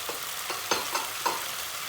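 Tomato paste and chopped tomatoes fry in a pot with a soft, steady sizzle, broken by a few sharp spatters and stirring clicks close by.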